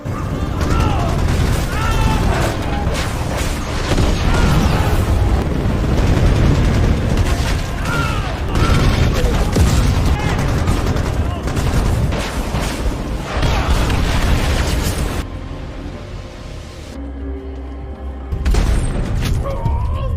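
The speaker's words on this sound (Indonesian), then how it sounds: "menghujani mereka dengan serangan rudal dan tembakan mesin dengan begitu dahsyat" Rapid bursts of machine gun fire and heavy missile explosions pile up into a dense, chaotic barrage, with a voice talking over it before a brief lull.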